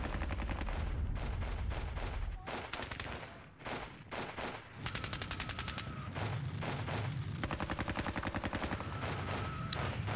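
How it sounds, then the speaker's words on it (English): MG-42 heavy machine gun fire in a World War II video game battle, with long rattling bursts of rapid shots broken by brief pauses, steady and fairly close, with other gunfire mixed in. "He's got a machine gun up there as well. Heavy machine gun there. MG-42 probably."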